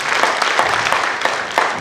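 A seated audience at a graduation ceremony in Kenya claps for a group of graduates, a dense, steady patter of many hands, fairly close and continuous, with no voices over it.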